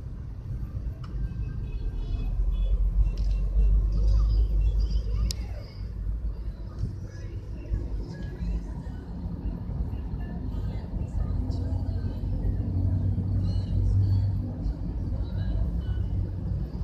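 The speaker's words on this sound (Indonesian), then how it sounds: "Ada 10 iring-iringan. Quester dari Astra Yudi Trucks." A convoy of ten UD Trucks Quester trucks from Astra drives past on a road, a continuous low engine rumble that swells and fades, with a brief air-brake hiss and people talking nearby.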